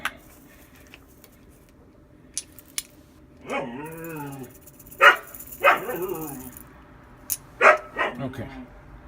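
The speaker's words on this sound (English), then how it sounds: "Sorry, those are my dogs in the background." Several dogs bark and yip in the background of a room, a few sharp barks and a short growl spread across the stretch, moderately loud against a quiet backdrop.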